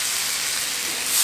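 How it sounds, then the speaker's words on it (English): Ribeye steaks searing in very hot oil in a pan, a bright, steady hiss and sizzle that holds level for a brief moment and swells slightly at the end. "we're just going to take the steaks and we're going to put them on there"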